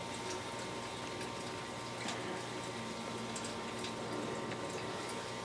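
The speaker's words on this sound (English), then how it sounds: "So lots of splashing is good" Freshly brewed beer wort pours and splashes continuously into a fermenter, a steady bubbling, frothy rush with no voices.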